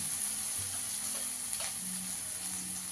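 Bhola fish curry with cauliflower and potato sizzles and fries steadily in a pan, with faint stirring noises over a constant hiss.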